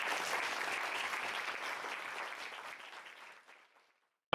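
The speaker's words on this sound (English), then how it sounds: "round of applause again for the new couple" Guests applaud a newlywed couple at a wedding reception, steady clapping from a sizeable crowd that holds strong then thins and fades out over several seconds.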